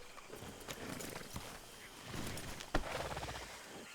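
A horse's hooves clip-clop at a walk in Red Dead Redemption 2, steady thuds mixed with ambient noise and a sharp knock near the end, moderately close.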